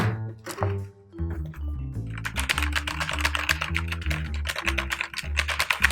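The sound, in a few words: typing on Cherry MX Red keyboard switches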